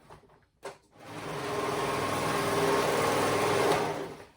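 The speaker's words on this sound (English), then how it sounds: "So I'm gonna sew those sides together." A sewing machine runs steadily for a few seconds, stitching the side seams of a child's dress after a brief click at the start, close up and with no talking.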